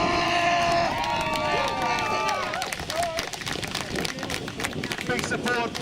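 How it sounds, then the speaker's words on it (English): Loud crowd cheering and clapping at a local festival as a Dutch medieval combat team enters the list, a dense, steady roar with whistles and scattered shouts throughout. "Big support from the local crowd here."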